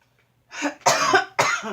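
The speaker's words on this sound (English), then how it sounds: "I am coughing now." Three rough, breathy coughs in close succession, loud and near, with no talking.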